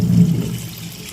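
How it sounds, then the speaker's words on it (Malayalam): Coconut milk, the second extract, is poured into a pan for chicken stew, making a brief, steady liquid pour with a low, full gurgle that fades slightly toward the end. "തയ്യാറാക്കി വെച്ചിരിക്കുന്ന തേങ്ങാപ്പാൽ, 2-ാം പാൽ ഒഴിക്കും."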